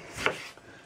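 A single crisp chop of a knife through tomatoes onto a cutting board, close and clear, with a short quiet tail.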